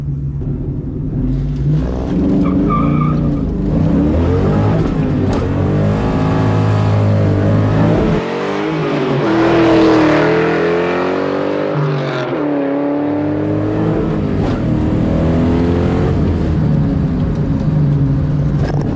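A 1997 Mustang Cobra roars hard through a 0 to 60 run, engine revving loud and climbing through the gears with tire wheelspin, a short dip between shifts, sustained and close for the whole stretch.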